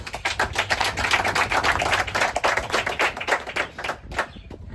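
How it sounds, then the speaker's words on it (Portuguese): A small congregation at a recovery clinic worship service claps for Jesus, fast rhythmic handclaps from a few people close by, steady and fairly loud before tapering off at the end. "Palmas para Jesus."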